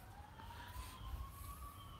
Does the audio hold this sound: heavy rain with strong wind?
no